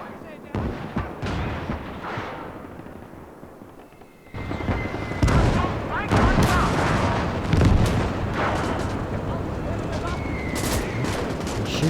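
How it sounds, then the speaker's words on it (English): Gunfire in a WWII real-time strategy game: rapid rifle and machine-gun bursts with heavier thuds that swell after a quieter opening into a dense, continuous firefight, with a voice talking over it. "Shooting."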